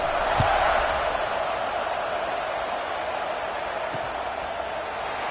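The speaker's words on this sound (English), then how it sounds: "this crowd now ready to get behind them" A large football stadium crowd roars steadily at kickoff, a dense, continuous wash of noise with a couple of faint thumps beneath it.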